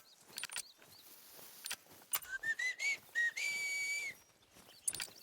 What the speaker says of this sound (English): that's the only whistle in my mind that sounds like an actual praising whistle